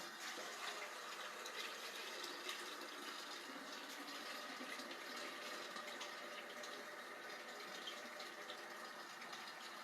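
A tap runs steadily into a pan for homemade liquid laundry soap, a faint, even rush of filling water with no talk.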